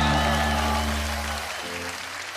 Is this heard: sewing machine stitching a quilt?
no